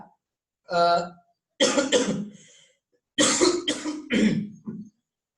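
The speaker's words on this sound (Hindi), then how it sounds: "ये ऐसे ही खांस रहा मैं" A man coughs in four separate harsh bursts with short silent gaps between them, the later ones coming in close pairs and sounding close to the microphone.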